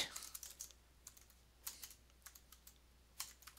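Typing on a computer keyboard in a quiet room, a run of soft, irregular key clicks in small clusters, faint and close, with no talk.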